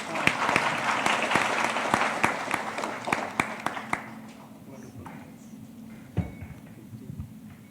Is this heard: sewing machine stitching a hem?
no